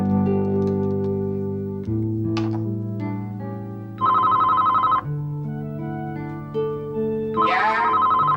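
A household telephone rings in repeated electronic bursts, steady tones alternating with brighter warbling rings, clear and close with no talk.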